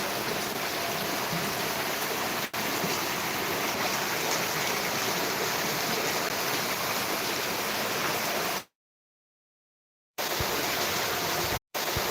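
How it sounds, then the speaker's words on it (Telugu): Steady, dense rush of water from a heavy downpour over a flooding stream in Dharmavaram, continuous and loud, cutting out briefly near the end. "వానైతే భారీగా వస్తుంది వంక కూడా భారీగా పడుతుంది ఇప్పుడు"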